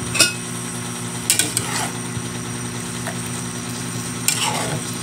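Vegetables sautéed with oyster sauce are stirred in a pan, giving a few sharp metallic scrapes and clinks of a utensil against the pan over a steady low background hum, with no talking.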